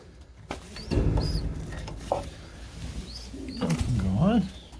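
Young pigeons cooing in a loft, soft repeated coos and murmurs at close range, mixed with brief chirps and light wing or handling noises.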